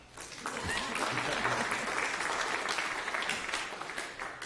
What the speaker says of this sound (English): Let's welcome Kathy back again. You can clap.